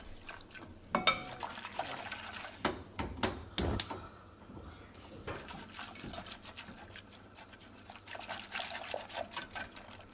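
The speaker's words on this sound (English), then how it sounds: "And then add our 1 cup of cold water." One cup of cold water poured into a bowl of mustard mixture, a faint trickling splash broken by several sharp clinks and knocks of the container, quiet and close in a kitchen.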